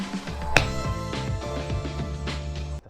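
A Ping i530 iron strikes a golf ball on a fairway: a single sharp, crisp impact rings out once near the start over a steady tonal background.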